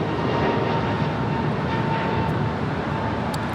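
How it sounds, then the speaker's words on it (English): American Airlines A321neo taking off at LAX, a steady jet engine roar with a faint tonal hum, moderately loud and unbroken, with no voices. "This is American Airlines 265 taking off to Lihue on an A321neo"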